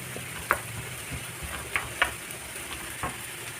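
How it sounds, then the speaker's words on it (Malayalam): Shallots sizzle in hot coconut oil in a pan, a steady close frying hiss with occasional sharp pops and crackles scattered through it. "ആ വെളിച്ചെണ്ണയിൽ തന്നെ നമ്മൾ ഇതുപോലെ എരിഞ്ഞ നമ്മുടെ ചുവന്നുള്ളി ഉണ്ടല്ലോ അതൊന്ന് വറുത്ത്"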